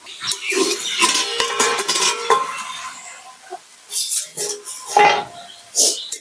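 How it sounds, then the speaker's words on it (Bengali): Metal pot lid lifted off a simmering pot of fig and shrimp curry in a home kitchen, with a few close, bright clinks and scrapes of metal between quieter stretches. "এবার আমি ঢাকনাটি খুলে নেব"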